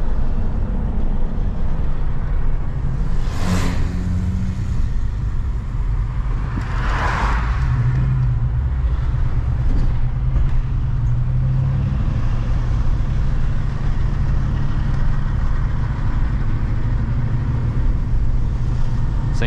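A 1995 Ford Bronco XLT on big all-terrain tires drives and makes a U-turn, giving a steady low engine and road rumble with a couple of brief swells from passing traffic.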